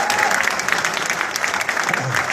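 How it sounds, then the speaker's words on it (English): Steady, dense applause from a crowd at a Nepalese American political rally in Washington DC, clapping for a group of children, continuous and fairly loud throughout with a faint murmur of voices mixed in. "Give those kids another great round of applause"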